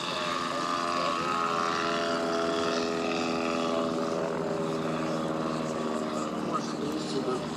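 A stock Piper Super Cub light aircraft at a Wisconsin airshow drones with a steady propeller-engine hum, fairly loud and continuous, while an announcer talks over it.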